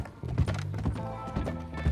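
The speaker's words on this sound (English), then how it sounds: "I can't believe how much is, uh, how fast Butch's horse is" Hooves of a fast-moving horse clip-clop on a road in a video game, a quick, steady galloping rhythm of hoof thuds that runs through the whole stretch, fairly close and prominent.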